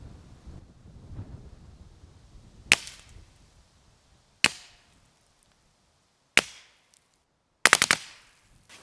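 Four sharp, loud 9mm reports from a BRT Car15 carbine fired outdoors at 20-25 yards, spaced a couple of seconds apart with the last as a quick double, each trailing off in a short echo over wind.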